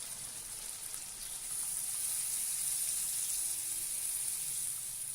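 Water poured into a pan of frying kofta curry gravy, giving a steady hiss and sizzle that swells and holds after the first second and a half, close and fairly quiet, with no talking.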